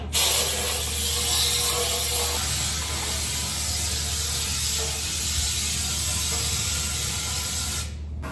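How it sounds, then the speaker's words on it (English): Compressed air blasts through the rusty fuel tank of a Honda Big Red barn find, a loud, steady spraying hiss that runs nearly unbroken for several seconds and then cuts off abruptly. "I can use it with compressed air to kind of rinse the whole tank out"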